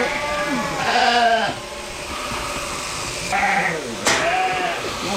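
Sheep bleat loudly and repeatedly on shearing day, with drawn-out wavering calls near and far, while people talk in the background.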